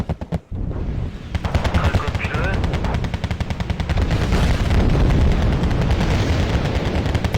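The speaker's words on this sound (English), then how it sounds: "Every artillery piece ever is firing." Massed artillery and gunfire rattle continuously in the video game Wargame: Red Dragon, a loud, dense barrage of rapid shots and booms that builds and keeps pounding, with a voice talking over it.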